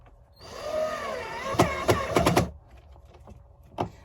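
A power drill drives a screw into a DIY cabinet door. A rising motor whine is followed by several sharp bursts as the screw bites and resists, then a final short knock. The whole event is close and loud.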